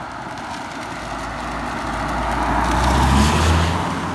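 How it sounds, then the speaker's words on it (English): Car approaching and passing on a wet road on a rainy fall night, a low engine hum and tire hiss that swells gradually to a peak near the end, over a steady wash of rain. "Here comes a car."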